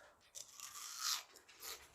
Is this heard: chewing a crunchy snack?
yes